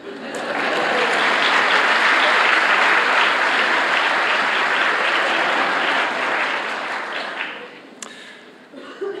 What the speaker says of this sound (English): He usually gets a round of applause.